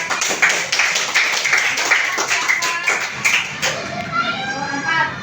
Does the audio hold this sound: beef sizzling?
no